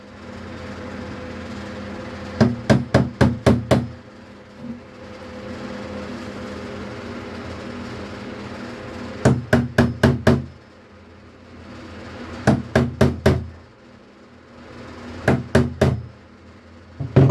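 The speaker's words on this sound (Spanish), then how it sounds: "voy a hacer varios puntos con el clavo de acero" A steel nail is struck to punch marks into the toothed impeller of a water pump, heard as close, loud bursts of four or five rapid metallic knocks repeated in separate groups, with a low hum between them.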